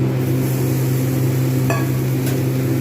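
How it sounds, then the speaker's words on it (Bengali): Potatoes frying in soybean oil in a wok, a steady loud sizzle with a constant hum beneath, broken by a couple of faint clicks partway through. "ভাজা কড়াতে দিয়ে দিলাম সয়াবিন অয়েল এইবার আমি আলু আর গাজরটাকে ভাজবো"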